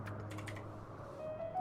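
Quick bursts of typing on a computer keyboard, a brief flurry of close key clicks that thins out, with a faint electronic tone from a game running underneath.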